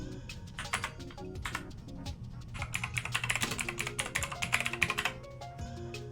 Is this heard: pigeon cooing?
no